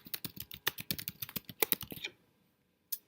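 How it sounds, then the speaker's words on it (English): Rapid keystrokes on a computer keyboard while an event is entered in Google Calendar, a fast clattering run of close clicks for about two seconds, then a pause and one last isolated tap. "type it in."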